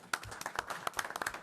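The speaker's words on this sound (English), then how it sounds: "I think we deserve your round of applause" Audience clapping at a municipal utility district board meeting, a short burst of scattered, irregular hand claps from a small group in a room, fairly close and steady throughout.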